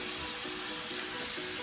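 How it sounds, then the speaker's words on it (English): Candy apple scented room spray hissing in a steady burst inside a car, a loud close aerosol spray lasting the whole moment. "I bought a little area spray."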